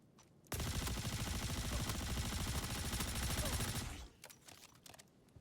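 Sustained automatic gunfire in the space game Star Citizen, a dense loud burst of rapid shots lasting several seconds before cutting off into quieter scattered sounds.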